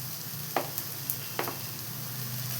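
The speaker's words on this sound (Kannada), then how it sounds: "ಸೇರಿಸಿ ಸ್ವಲ್ಪ ಈರುಳ್ಳಿ ಹಾಕಿ ಮೊದಲು ಫ್ರೈ ಮಾಡ್ತಿದ್ದೇನೆ" Onion and cashews frying together in a pan give a steady, close sizzle, broken by a few light clicks and scrapes from stirring, with no voices.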